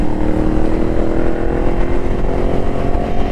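A next-generation Ducati Scrambler motorcycle engine runs under throttle, giving a steady, continuous, fairly loud drone with a rough low rumble throughout and no pauses.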